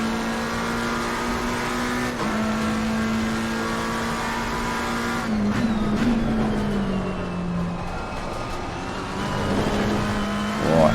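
A race car engine at Donington in the racing game ACC drones steadily at high revs and shifts pitch as the throttle is pressed too early, with brief gear changes and a faint tyre squeal.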